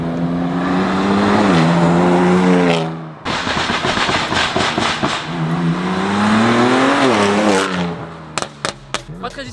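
Tuned BMW M2 Competition revving hard with loud, rising engine notes, then a brief pause before more revving, ending in a quick burst of sharp exhaust pops and crackles, close and dominant.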